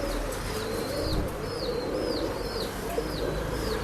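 A male pigeon at a pet shop coos in repeated soft, rising calls, each about half a second long, over a steady low background rumble.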